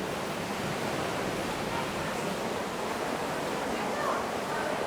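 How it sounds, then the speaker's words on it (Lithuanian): Ocean surf rolling in at an Indonesian coast seen from steep stairs, a steady broadband roar of breaking waves that stays loud and unbroken throughout, with no voices. "Kaip bangos dar varo"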